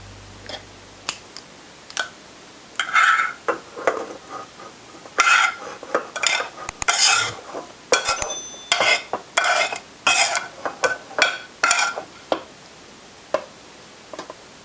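Shredded pulled pork going back into an Instant Pot, with clinking utensils, spoon scrapes and dull thuds against the metal pot in an irregular series of close clatters and taps, no talking.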